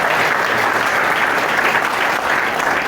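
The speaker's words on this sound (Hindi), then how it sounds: "जोरदार तालियां सर का स्वागत किया जाए।" Loud, dense applause from an audience at an A1 Academy staff gathering in Bhiwani, greeting the academy's director. It fills the whole stretch without a break and carries no clear speech.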